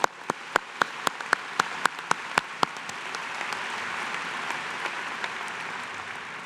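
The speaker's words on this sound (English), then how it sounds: "Let's give them a round of applause." Graduation audience at a fall bachelor's ceremony applauds, a burst of sharp individual claps in the first seconds settling into a steady, diffuse wash of clapping from a large crowd.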